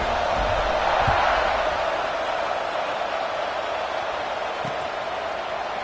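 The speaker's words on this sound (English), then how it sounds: "this crowd is buzzing after that last score" Football stadium crowd buzzing after a touchdown and extra point in a Week 3 game, a broad, steady roar of many voices at a distance, swelling slightly early then holding level.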